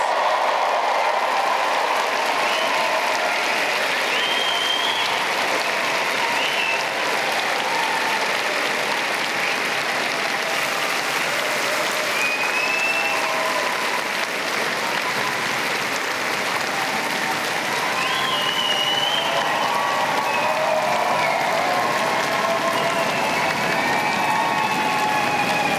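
Thunderous applause from a graduation ceremony crowd for Faculty of Arts graduates, sustained dense clapping with scattered cheers and whistles, loud and continuous for the whole stretch.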